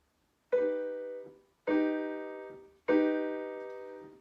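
An augmented chord built from two stacked major thirds is struck three times in a row, each chord ringing out and decaying cleanly before the next, with no talking.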